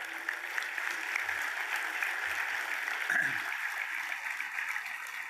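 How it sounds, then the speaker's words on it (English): An audience applauds at a city State of the City address in Corpus Christi, with even, continuous clapping heard at a moderate distance for several seconds. "Another applause for our Mayor Paulette Guajardo."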